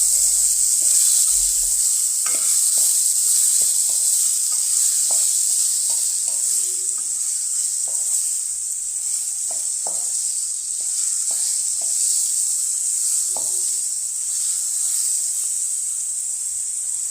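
Elephant yam sizzles steadily in hot oil in a pan, a continuous close frying hiss with scattered soft scraping taps from stirring, and no talk.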